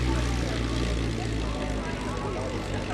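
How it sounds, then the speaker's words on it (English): Stock Cessna 170 with a 145-horsepower piston engine, its propeller droning loud and steady at close range throughout a STOL competition pass, with no break in the engine tone. "bringing in his stock Cessna 170 aircraft, only 145 horsepower on board"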